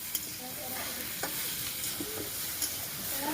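A spoon stirs shukto curry in a pot over a wood-fired clay stove, with soft sizzling and several light scraping clinks scattered through the short stretch; no talking.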